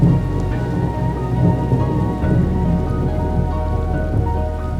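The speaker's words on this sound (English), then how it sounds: "Well, I most definitely did not beat the rain" Steady heavy rain of a thunderstorm outdoors at Glacier National Park, loud and continuous with low rumbles of thunder rolling underneath, no talking.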